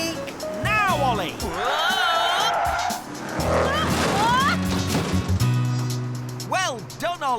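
A cartoon little white van brakes hard, its tires squealing in a long rising skid, loud and close, with excited voices shouting over and around the screech.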